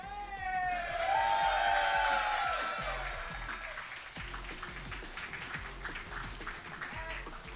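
Audience at a Tekken 7 tournament applauding with a swell of claps and cheers that thins into scattered clapping, with voices mixed in.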